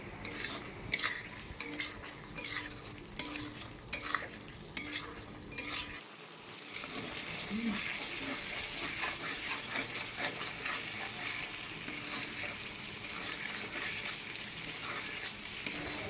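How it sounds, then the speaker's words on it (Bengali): Spice paste for a stingray fish curry being stirred and fried with a splash of water, opening with rhythmic metal spatula scrapes against the pan, then settling into a dense, continuous bubbling sizzle. "একটু জল দিয়ে মশলাটা ভালো করে কষিয়ে নেব"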